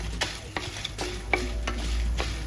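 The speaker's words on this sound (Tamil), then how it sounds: "கருகாமல் நல்லா வறுத்து எடுத்துக்கலாம்" Kandathippili and a small lump of asafoetida dry-roasting in a pan for rasam, heard as a soft background crackle broken by a series of sharp scraping stirs at a loose, uneven rhythm.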